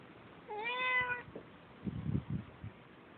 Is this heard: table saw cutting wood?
no